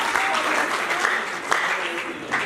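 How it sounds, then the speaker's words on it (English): Audience applause at a chemistry careers lecture, a dense steady patter of many hands filling the room for a couple of seconds, with a few sharper claps standing out. "Can we clap for him?"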